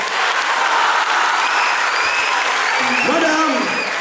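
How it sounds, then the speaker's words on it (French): A large audience at an outdoor village performance on nature conservation applauds loudly in a dense, continuous roar, with a voice briefly audible toward the end. "je vous demanderai d'applaudir très très fort"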